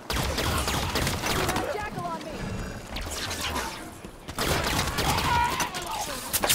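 Allied troops in the shooter Halo 5 firing on a body: a dense, continuous rattle of rapid shots with crackling bursts, loud and sustained with a brief lull midway, voices audible at times among the noise.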